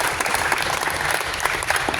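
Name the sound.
audience applause saluting graduating students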